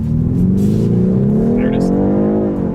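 A 2026 BMW 430i Coupe accelerates hard down a straightaway, the turbocharged engine note climbing steadily in pitch, loud and close from inside the cabin.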